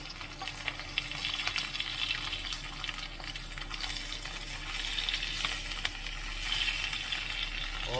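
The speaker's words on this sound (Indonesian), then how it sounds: "Wow, meletok-meletok nih." Oil crackles and pops steadily in a shallow layer of frying fat, a continuous close sizzle dotted with sharp spits and small bursts, with no voices over it.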